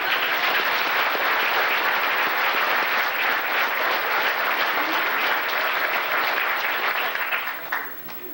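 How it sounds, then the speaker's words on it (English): A standing round of applause at a 1983 dinner banquet for Billy's wife, Marilyn Greco: loud, dense, sustained clapping from a large room that tapers off near the end. "how about standing up and giving a round of applause to Billy's wife"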